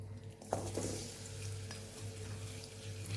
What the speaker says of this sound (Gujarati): અને અહીંયા આપણે હવે ગોળ ઉમેરી દઈશું